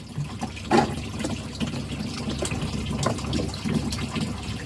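Water from a hose pouring into a snapping turtle tank while a pump runs, a steady close gushing splash with brief louder bursts.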